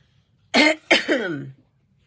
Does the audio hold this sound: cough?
yes